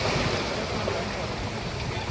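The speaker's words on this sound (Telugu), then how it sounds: "ఇక్కడ చూసుకున్నట్లయితే చాలా మంచి అలలు వస్తున్నాయి." Ocean waves wash against the shore at Kanyakumari, making a steady, broad roar of surf and wind. The sound is continuous at a moderate level, with no clear talking.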